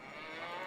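A cow in the Baldur's Gate video game gives a brief, faint moo that sits in a steady hiss of ambient game sound.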